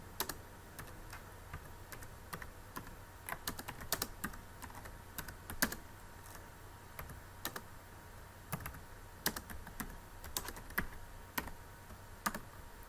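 Steady, close clicking of a computer keyboard as a quiz question is typed into a Google Forms online test, with keystrokes coming in uneven runs and short pauses and no one speaking.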